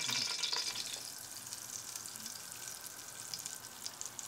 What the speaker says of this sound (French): Et maintenant, on va rajouter un petit peu de ghee.